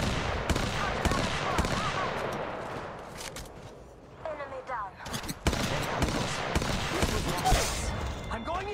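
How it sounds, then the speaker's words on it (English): Rapid bursts of gunfire in the Apex Legends Mobile battle royale game, dense and continuous across the clip, with in-game voice callouts and effects mixed in. "They're shooting at me."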